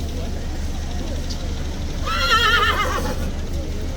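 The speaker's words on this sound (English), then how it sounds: "He's talking to the police horses that just went past on the trailer." A horse in a rainy London street gives a clear, wavering neigh lasting about a second, calling after police horses passing on a trailer, over low traffic rumble and background hubbub.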